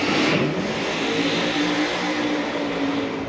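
A supercharged Outlaw drag racing car at Sydney Dragway roars loudly and continuously close by, a harsh raspy engine note that rises and holds.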